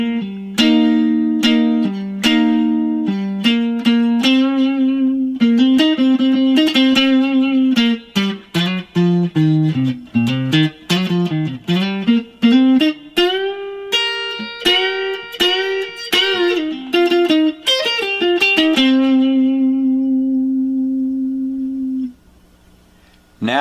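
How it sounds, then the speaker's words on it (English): Clean electric guitar with no effects plays the solo from a song: a long run of picked notes, bends and slides, loud and close, ending on a sustained note. "It should sound something like this without any effects."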